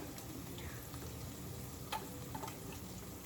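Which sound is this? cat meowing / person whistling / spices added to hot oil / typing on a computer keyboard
spices added to hot oil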